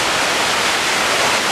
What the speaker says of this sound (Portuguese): A chuva continua, agora com menos intensidade, já passam das 18, mas a chuva continua.